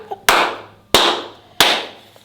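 Three slow, loud, evenly spaced claps, each a sharp crack with a lingering decay, making a deliberate slow clap.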